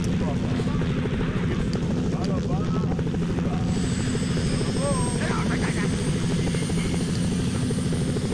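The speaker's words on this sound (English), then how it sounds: "your helicopter is really loud, Buzz." A loud helicopter engine in The Sims 2 video game roars steadily throughout with a low, continuous rotor drone, while a few faint game sounds chirp briefly above it.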